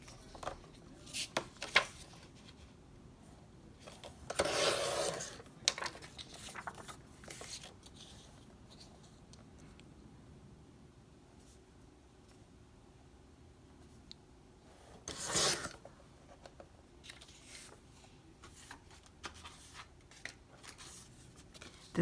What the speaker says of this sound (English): The next thing we want to do is cut down our pattern paper to 3 1/4 by 4